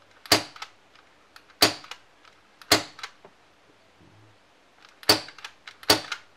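A Tokyo Marui MK23 gas airsoft pistol fires five sharp, snappy shots at uneven intervals, each a crisp crack with a short rattling tail, close and otherwise quiet.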